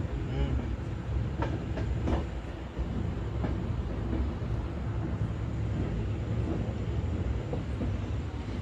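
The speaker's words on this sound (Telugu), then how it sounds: "సో చూసారు కదా, ట్రైన్ అయితే అక్కడ ఆగింది." A train rumbles past with a steady low roar and rhythmic clickety-clack of wheels over rail joints, continuous and fairly close.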